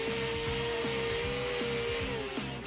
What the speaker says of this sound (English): This is a dual action sander